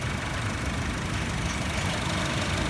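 A 2016 Honda Mobilio RS with a manual gearbox idles at an auction lot, its engine giving a steady, even hum with no revving and no voices.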